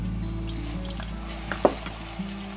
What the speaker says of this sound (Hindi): इसी ऑयल में हम 1 अदद पिसा हुआ प्याज ग्राइंड किया हुआ है